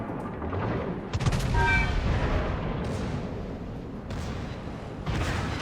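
Heavy naval gunfire from the battleship Bourgogne in a warship game, a loud booming salvo with rolling low rumble and a sharper crack near the middle, followed by further distant thuds, with faint speech under it.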